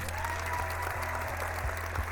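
A stream alert plays a burst of crowd applause, steady clapping that runs the whole length at moderate volume with no talking over it.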